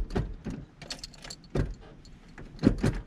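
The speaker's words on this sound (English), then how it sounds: "always has problems trying to start my car" Keys jangle and rattle in a few separate bursts as someone tries to start a car that often has trouble starting, with clicks and knocks between them.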